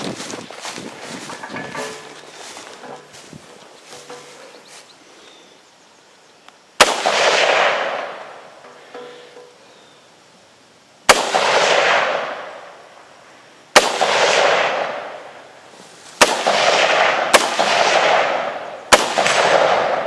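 Rifle shots fired through an unmagnified optic: five or six sharp, loud cracks spaced a second or two apart, each followed by a rumbling echo, after a stretch of quieter rustling and clicks.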